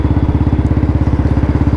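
A Royal Enfield Bullet 350 BS4 motorcycle engine thumping close and loud at a steady idle, its rapid even single-cylinder pulses continuing without pause.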